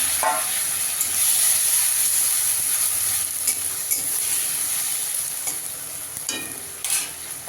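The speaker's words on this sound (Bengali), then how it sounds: "এখানে আমি দুটো টমেটো পেস্ট করে রেখেছি, গ্রেট করে রেখেছি, সেটা দিয়ে দেবো" Grated tomato paste sizzles in a hot pan with a steady bright hiss, while a utensil scrapes and stirs in occasional short clatters, close and moderately loud.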